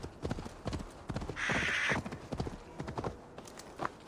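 Horse galloping in Assassin's Creed Valhalla, a quick steady clip-clop of hooves close by with a brief whinny in the middle, no talk.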